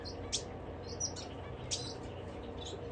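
Small zebra finches give short, faint chirps and tweets, a few scattered high calls over a low, steady background hum.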